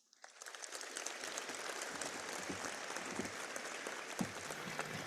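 An audience claps steadily after a speech at a Bill Gates event on progress in Africa, with dense, sustained applause from a large crowd heard from some distance and no talking.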